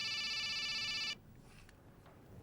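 A steady electronic phone ringtone trills loudly for about a second, then cuts off abruptly, leaving quiet room noise.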